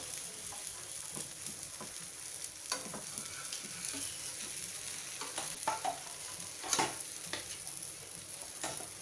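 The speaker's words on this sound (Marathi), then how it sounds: "यावर आपल्याला तेल सोडायचंय, थोडंसं कडेने पण सोडायचं, म्हणजे पराठा चिकटला असेल तर तो निघून येतो" Paneer paratha fries in oil on a griddle, giving a steady, fairly quiet sizzle with scattered crackles and pops throughout and no voices.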